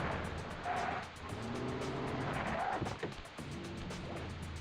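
A van drives in the Sly Cooper video game, its engine a steady, continuous hum with rising and falling pitch over game music and effects.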